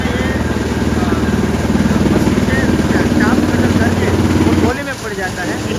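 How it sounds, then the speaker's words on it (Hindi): Tractor-driven fodder cutting machine at a large cow shelter near Ahmedabad, a steady loud engine drone with chopping rumble running continuously, dropping off near the end, with people talking over it. "अभी ये चारा कटिंग हो रहा है, आप देख सकते हो कि ट्रैक्टर से चारा इधर आ जाता है"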